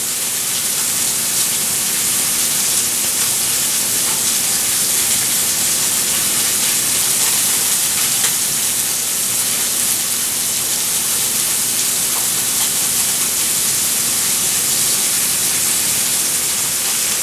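Pork loin sears in a hot pan with a steady, loud, broadband sizzle and hiss that holds unbroken and close for the whole stretch, with no talking.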